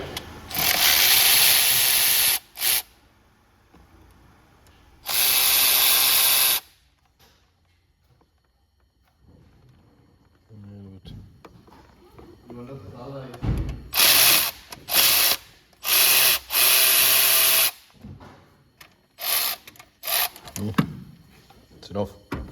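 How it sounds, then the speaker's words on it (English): Loud bursts of a pneumatic impact gun hammering at bolts on a Vauxhall Astra engine cover, several separate rattling runs with quieter pauses and clanks between them. "I'm just going to throw a large power tool on that impact gun and whack it off"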